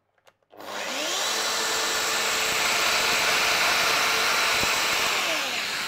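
Domino joiner with a 5 mm cutter plunge-cutting wood: after a few faint clicks, the motor spins up into a loud, steady high-pitched whine with grinding cut noise, sustained for several seconds and easing slightly at the end.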